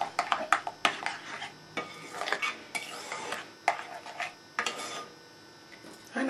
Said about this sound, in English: And then give that a good mixing until it's all well incorporated.